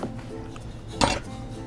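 In the cooking game Chef Life, a pot clanks once with a sharp metallic clink while spaghetti is set to boil, over a faint background hum.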